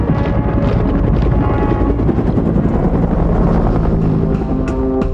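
A UH-1 Huey helicopter thumps steadily with its rotor beat and turbine whine, loud and close throughout with no pauses.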